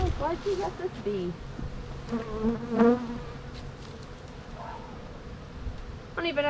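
Honey bees hum and whine close by at an open beehive during an inspection, with the pitch rising and falling as individual bees pass near. Brief bits of talk come through under the buzzing.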